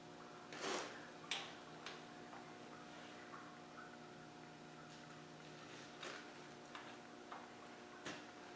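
A cheap click wrench tightens a bolt on a Land Rover 200 Tdi engine, giving faint, scattered light ticks and clicks over a quiet background hum.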